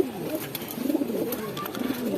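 Soft, rolling coos from a flock of pigeons kept in a home loft in Hemayetpur, fairly quiet and continuous, with overlapping birds swelling and easing in waves.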